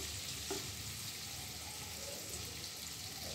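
Paneer cubes being lightly sautéed in butter in a kadai crackle with a continuous, moderate sizzle, joined by soft stirring scrapes.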